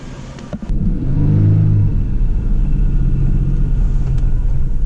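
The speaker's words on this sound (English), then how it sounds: "Let's hop in this truck and get on over to Snow Canyon" Pickup truck driving toward Snow Canyon State Park, Utah: a steady, loud low engine rumble and road drone fill the whole span, with a brief knock near the start.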